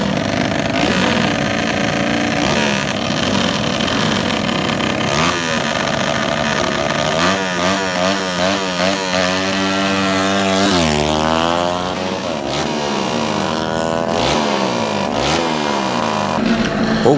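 Several 130cc motorcycles rev hard at a drag race in Bogo, their engines rising and falling through repeated high-pitched acceleration sweeps, loud and close throughout.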